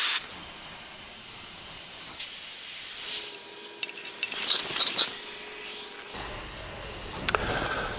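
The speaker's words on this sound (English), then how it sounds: "So I'm going to just drain the rest of the air out of this tank." Compressed air hisses steadily out of an air compressor tank as it is drained, a soft continuous rush that shifts and grows brighter partway through, with a few small clicks.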